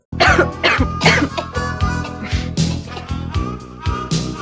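Someone coughs repeatedly in a rough, close-up fit, a string of harsh hacking bursts with brief gaps between them.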